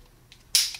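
A large gas-pedal-style grip safety on a Standard Manufacturing 1911 field pistol snaps with one sharp, close click near the end, preceded only by a couple of faint ticks in near silence.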